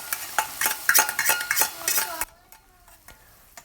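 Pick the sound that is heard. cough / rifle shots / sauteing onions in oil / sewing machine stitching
sauteing onions in oil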